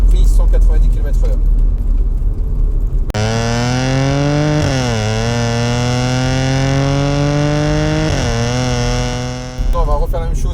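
An Audi S5 stage 3 running on ethanol, tuned to 530 hp, accelerates hard, its engine note climbing steeply through two gear changes and then cutting off, loud and close, with a voice talking before the pull.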